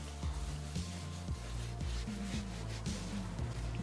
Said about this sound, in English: I'm going to apply some cleaner to it and see how much dirt is left on the surface of this wheel.